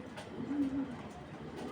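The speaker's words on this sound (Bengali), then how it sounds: "এটা কিন্তু নর কবুতর।" A male cream-barred pigeon coos softly and close by, a low brief purring call repeated a couple of times over quiet background.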